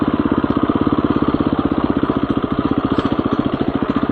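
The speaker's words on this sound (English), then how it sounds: "how low I can lug it in second gear without killing it" A motorcycle engine lugs at very low revs in second gear on a rough trail, chugging in an even, rapid, close-up thumping pulse that stays steady throughout.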